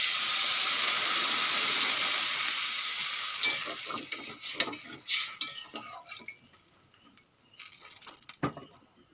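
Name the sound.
water added to fried fish sizzling in pan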